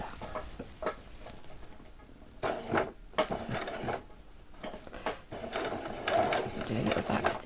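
A domestic sewing machine back-stitches doll-sized jeans in short, close bursts of rapid needle clatter broken by brief pauses, with quiet handling sounds between runs.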